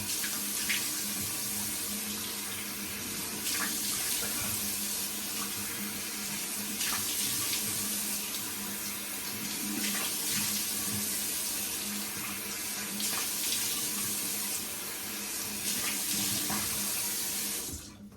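Tap water runs steadily into a sink while a face is wetted before a shave, with a close, continuous splashing hiss and occasional small splashes, no talk.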